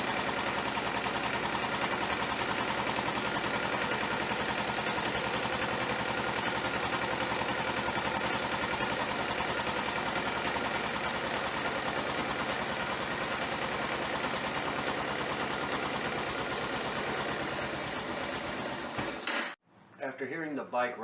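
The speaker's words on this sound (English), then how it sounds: "It's even idling with the choke on." A Kawasaki Ninja 250R motorcycle with dirty carburetors idling on choke, a steady, close, continuous engine drone lasting well over fifteen seconds before it drops away abruptly near the end.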